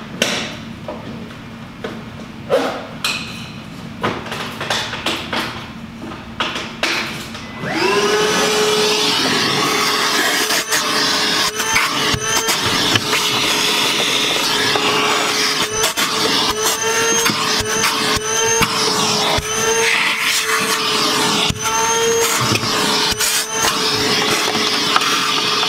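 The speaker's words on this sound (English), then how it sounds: "Put this in the Milwaukee" A Milwaukee vacuum cleaner starts up after some light knocking and handling noises, then runs loud and steady with a continuous whine and occasional rattles as debris is sucked up.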